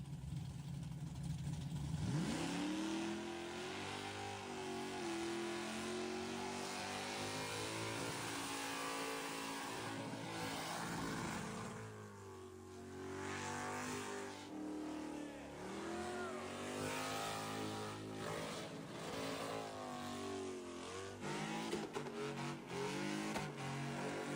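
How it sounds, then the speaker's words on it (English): A big block Mustang rips a burnout, its engine roaring at sustained high revs with rising and falling pitch for over twenty seconds, loud and close with crowd noise around. "That thing is ripping a burnout right now with everybody in it."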